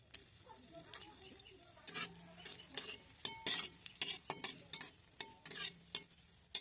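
Dried red chilies fry in oil in a pan while a utensil stirs them, making irregular sharp scrapes and clinks over a faint, close sizzle with no voices.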